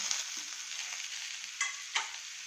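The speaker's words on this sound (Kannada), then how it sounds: "ತೆಂಗಿನಕಾಯಿ ಮತ್ತು 1 ಇಂಚು ಶುಂಠಿ. ಇದು ಸ್ವಲ್ಪ ಫ್ರೈ ಮಾಡ್ಕೊಳ್ತೀನಿ." Coconut, ginger and tamarind frying in a pan, a steady close sizzle with a couple of sharper crackling bursts and no talking.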